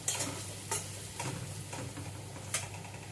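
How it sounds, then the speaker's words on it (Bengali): Turmeric, chili powder and cumin powder stirred in a hot pan with oil, giving a soft sizzle under several sharp scraping strokes and taps of the spoon at uneven intervals. "ভালো করে এগুলোকে মিক্স করে নিচ্ছি"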